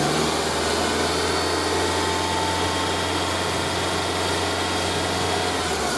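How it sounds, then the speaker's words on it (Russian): A car engine holds at raised revs in a steady, dense roar during an alternator load test with a battery and alternator tester, close and constant with no talking. "Увеличьте обороты, удерживайте их в течение 10 секунд."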